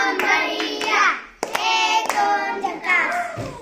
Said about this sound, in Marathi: चला, चैतनसाठी टाळ्या वाजवा जोरदार.